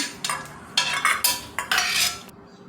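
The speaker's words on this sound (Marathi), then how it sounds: "बदाम आणि थोडे पिस्ते अगदी अर्धा मिनिट परतून घेणार आहे तुपावर" Almonds and pistachios roasting in ghee are tossed with a metal spoon in a pan, giving about six bursts of bright scraping and rattling, each a fraction of a second, close and loud, ending in quiet.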